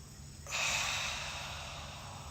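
A single deep exhale during a breathing exercise, a long airy rush of breath that starts abruptly and fades slowly, heard close and alone.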